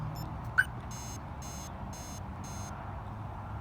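A series of four short, faint electronic beeps in quick even rhythm from a Viper 5706V car alarm remote, confirming silent alarm mode, following a soft click, in a quiet room.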